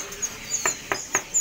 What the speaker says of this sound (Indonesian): Ini juga ready untuk perkutut lokalnya